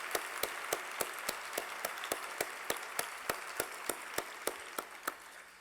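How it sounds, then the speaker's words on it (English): An audience applauding a speaker at a woman-of-the-year awards event: a steady wash of distant clapping with a sharp, regular clap close by repeating about every third of a second throughout. "all of us should probably give Lori an incredible round of applause for her leadership."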